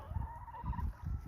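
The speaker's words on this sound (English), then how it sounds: "free range chickens now" Free-range chickens cluck softly in a few short bursts nearby, with a steady background hum underneath.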